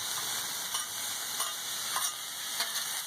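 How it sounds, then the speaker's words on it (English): Vegetables cook in a pan with a constant hissing sizzle close by, and a few soft stirring scrapes and clatters recur throughout with no talking. "as you can see, the vegetables are starting to cook up nicely"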